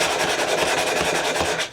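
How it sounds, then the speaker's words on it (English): Sandpaper rubbed by hand across the ends of a wooden board, a rapid, steady rasping back-and-forth at close range, stopping abruptly. "go ahead and just kind of, sand these ends off here before you decide to paint"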